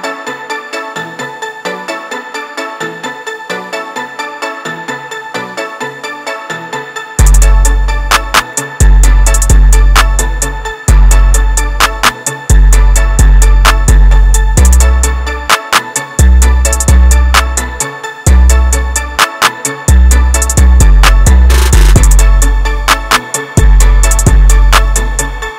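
A full trap beat made in FL Studio, a bright synth melody opening alone before booming 808s, hi-hats and snares kick in, loud and continuous.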